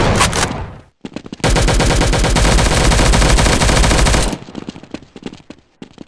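Sustained automatic gunfire in Counter-Strike 1.6 on the Dust2 map, loud and close: a short burst, then a dense rapid stream lasting about three seconds, trailing off into scattered single shots.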